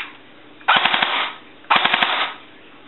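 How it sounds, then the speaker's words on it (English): Speedy Toys M16A4 airsoft rifle with a high-torque motor and M120 spring, firing full auto: two loud, close, rapid bursts of about one second each, separated by a short pause, with no voices. "Full auto."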